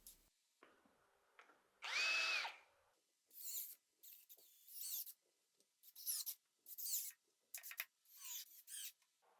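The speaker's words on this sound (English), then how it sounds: "I drill a pilot hole first." Power drill boring a pilot hole into wood for a screw in a woodworking shop: one sustained whine of the drill, followed by a series of short bursts of drilling and handling noise, fairly close and loud with no talking.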